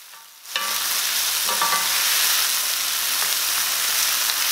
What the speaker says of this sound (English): Add the onion and tomatoes and cook about 3 minutes until the onion becomes